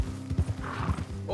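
Quick hoofbeats clop close by in the video game Red Dead Redemption 2, a short burst of horse footfalls with a brief whinny-like tone underneath.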